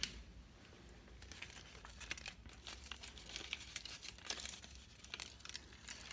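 Crinkling and tearing of thin aluminium tape being applied in layers, with sharp rips and crackles over a steady low hum, close by and fairly quiet.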